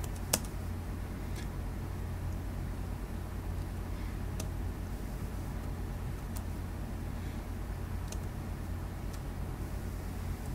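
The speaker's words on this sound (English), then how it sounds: "I'm holding down the space bar, by the way, and then just moving, clicking and moving with my mouse." Computer mouse clicks while the space bar is held down during image editing in GIMP: a handful of sharp, isolated clicks spaced a second or more apart, faint against a steady hiss.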